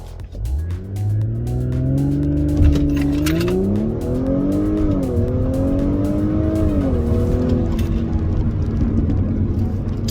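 An Audi S4 fitted with 034 Motorsport transmission mounts drives a test run, its engine droning steadily close by, pitch rising and falling through gear changes with a brief tyre squeal early on.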